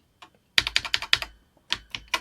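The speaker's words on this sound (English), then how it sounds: "If I type help" Keys clack on a grubby Acorn BBC Master 128K computer keyboard, first in a rapid burst of about eight close presses, then a short pause and three more.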